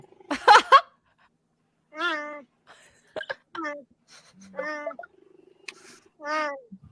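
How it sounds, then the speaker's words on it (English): A cheetah makes a series of short, high, chirping meow calls, several separate close cries with pauses between them, preceded by a brief burst of rustling. "Did you guys know that cheetahs meow?"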